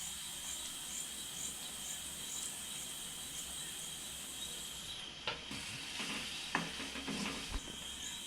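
Peanuts tumble into a hot frying pan while stuffed okra cooks, giving a steady soft sizzle and hiss that carries a few light clatters and stirring scrapes near the end.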